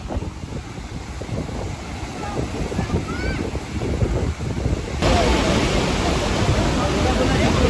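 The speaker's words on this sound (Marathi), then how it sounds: "पण लाटा पाहू शकतात किती जोरात येत आहेत" Strong sea waves break and roll onto a Goa beach, a loud continuous surf roar with wind buffeting the microphone that swells louder over the last few seconds.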